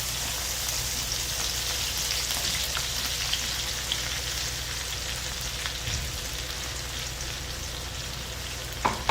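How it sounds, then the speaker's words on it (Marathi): Crushed garlic sizzles and crackles in hot oil, a steady frying hiss throughout with a brief clatter near the end. "इथे मी कुटून घेतलेला लसूण आहे तो टाकत आहे"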